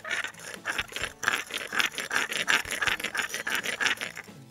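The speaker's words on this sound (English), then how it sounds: "get it on some concrete and rub away" Steady rhythmic rasping of a hammer head scraped back and forth on a rough concrete surface, close and fairly quiet, repeating strokes with no talking.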